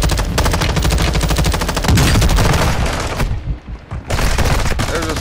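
Rapid automatic gunfire in a shooter video game rattles in loud sustained bursts, breaking off briefly before resuming just as dense.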